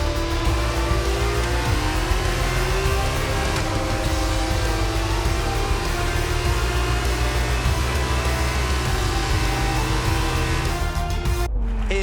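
In the F2 22 racing game, a High-Tech GP Formula 2 car rolls into parc fermé at the Dutch GP, its engine a steady loud droning hum throughout that cuts off abruptly at the very end.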